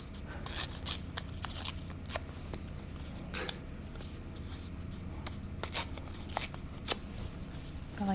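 Paper with a rusty texture torn by hand for a mixed media art journal page, giving soft, scattered ripping and rustling bursts close by over a steady low background hum, with no talking.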